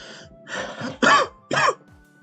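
Two sharp, loud coughs close to the mic, preceded by a throat-clearing rasp and breathy vocal noises.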